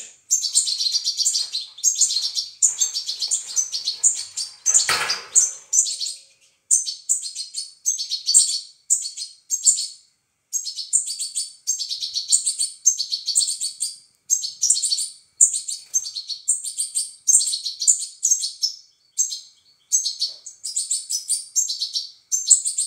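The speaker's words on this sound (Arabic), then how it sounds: "فراخ ديال طائر الحسون معشوق الجماهير" High-pitched goldfinch chicks chirp continuously up close in rapid, insistent bursts while being fed, a steady chorus of thin peeping calls with one brief knock early on.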